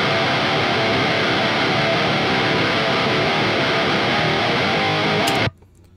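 Electric guitar from a cover song played through an amp simulator plugin, a thick, dense wall of heavily distorted tone that holds loud and steady, then cuts off suddenly near the end.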